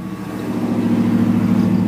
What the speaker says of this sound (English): She idles high at first, but eventually she idles back down.